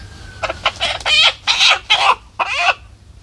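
A chicken clucks loudly and close by in about five rhythmic bursts, with no one talking over it.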